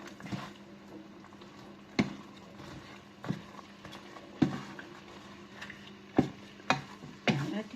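Carrots and leftover onion being stirred in a pan while cooking pancit, with a spoon scraping in irregular strokes every second or so over a soft, steady background sizzle.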